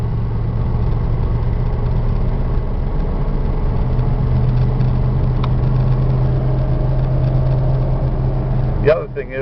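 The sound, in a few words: motorhome engine idling with small exhaust leak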